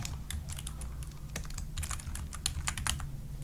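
Keys on a computer keyboard are typed and tapped in quick irregular bursts with sharp clicks, close and fairly quiet, over a low background hum.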